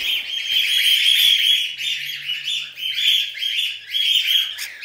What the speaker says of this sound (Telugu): ఇది మేల్ బర్డ్ అనమాట, ఎంత సౌండ్ చేస్తుందో